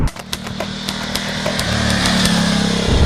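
Ducati Multistrada 1260 S Grand Tour 2020 motorcycle engine, close and loud, with sharp blips of the throttle at first, then a steady rising drone that climbs and holds near the end.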